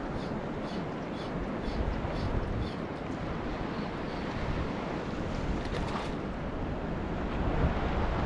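Ocean waves wash and surge steadily close to a small fishing boat at sea, with wind buffeting the microphone in a constant broadband roar that never lets up.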